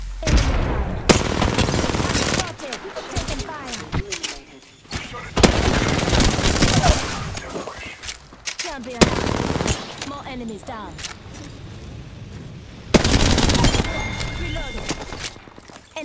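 Bursts of machine gun fire in a video game, several loud rattling volleys separated by short gaps, with game sounds and voices talking between them.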